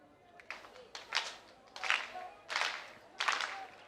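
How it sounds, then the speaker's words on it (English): Crowd at a women's athletics field event in Castellón claps in a steady building rhythm, several bursts of clapping rising and falling over a few seconds at moderate distance. "Getting the rhythmic clapping of the crowd."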